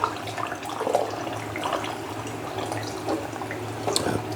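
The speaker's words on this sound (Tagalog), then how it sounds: "Tapon lang natin yung tubig niya." Salted water splashes and trickles as it is poured out of a container of eggs, with scattered drips and a steady wet rush close by.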